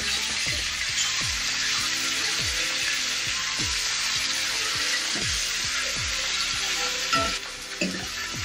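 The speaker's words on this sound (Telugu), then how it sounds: "ఇలా బాగా పచ్చివాసన పోయేదాకా అల్లం పేస్ట్ని ఫ్రై చేసుకున్నాం కదా" Ginger paste frying in a pan for mushroom curry, a steady close sizzle with repeated scraping stirs of a spoon through the paste, ending with a brief clatter.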